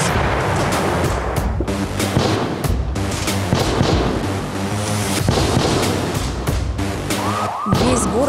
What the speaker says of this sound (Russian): Внезапно на улице раздались звуки взрывов и стрельбы.